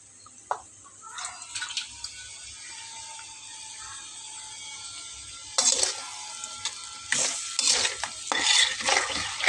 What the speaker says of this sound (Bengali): মশলাটাকে খুব ভালোভাবে আমি কষিয়ে নেব।